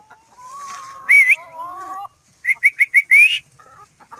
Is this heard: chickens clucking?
yes